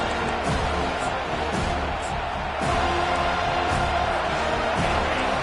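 Home crowd at a college football game against Florida roars in a broad, steady wash of cheering as the defense faces third down, a swell rising midway and holding loud to the end.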